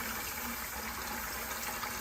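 Water rinses steadily through unwashed pea gravel in a micro-bioretention facility, a soft continuous wash with no voices.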